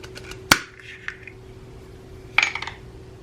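A jar of Bonne Maman rhubarb strawberry spread being opened, giving a sharp metallic clink from the lid followed by a few light clicks and rattles. A second cluster of small glassy taps follows a couple of seconds later, close and quiet.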